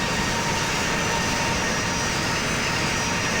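A Hawaiian Airlines Boeing 717-200 airliner flies in the Infinite Flight game with a steady, loud jet engine roar that holds constant and never varies.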